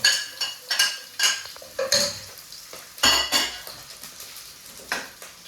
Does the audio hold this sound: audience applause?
no